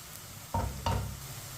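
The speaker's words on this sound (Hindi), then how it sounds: "अब इसे भी 2 मिनट के लिए पका लेंगे चम्मच चलाते हुए" Ginger and garlic sizzle in a pan for a Tinda chicken dish, with two sharp spoon-stirring scrapes standing out over a steady low frying hiss; close and fairly loud, no talking.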